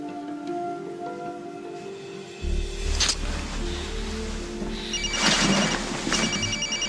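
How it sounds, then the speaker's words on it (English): A cell phone rings on a television soap opera set, with the electronic ringing tone arriving partway through and sounding twice over a low background hum, near and moderately loud, with no talking. "it's my cell phone."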